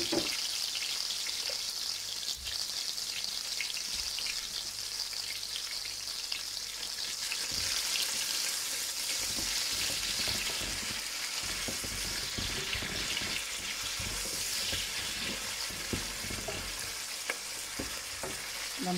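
Bell pepper frying with salt in a pan, a steady, moderately loud sizzle with scattered pops and crackles throughout, close by and without voices.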